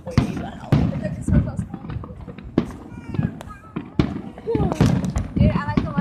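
Fireworks pop and boom at an outdoor fireworks show in Rapid City, a rapid series of sharp thuds and crackles close by, while people chat excitedly over them.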